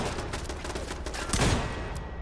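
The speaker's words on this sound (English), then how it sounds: "do you really think a small automated 9mm turret is going to stop me?" A small automated 9mm turret fires in Fallout London, sending rapid bursts of sharp gunshots in a steady stream with a louder cluster of shots partway through.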